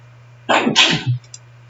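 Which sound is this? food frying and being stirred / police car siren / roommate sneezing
roommate sneezing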